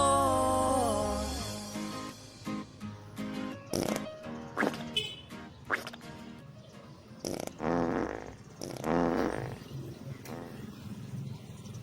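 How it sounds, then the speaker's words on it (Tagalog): Novelty song about farting with loud fart sound effects, several short blasts scattered among sung and music passages, fairly loud and up close. "Tanan mangutot, mutingog nga utot."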